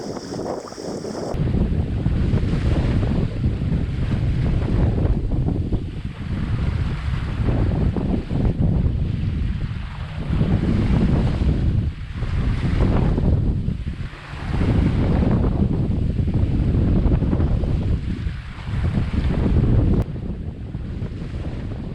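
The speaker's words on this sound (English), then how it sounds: "As you can see, we're also trying to punch through a swell here, so she needs some forward driving power." A sailboat punching through swell at sea, with strong wind buffeting the microphone and waves surging and crashing against the hull in repeated loud swells, no voices.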